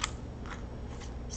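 Scissors cut paper for a file folder pocket journal page, with several quick, soft snips in a row, close and quiet with no talk.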